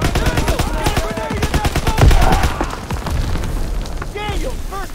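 In a Call of Duty D-Day battle on Omaha Beach, a heavy grenade blast booms amid rapid rifle and machine-gun fire, with shouting voices in the mix.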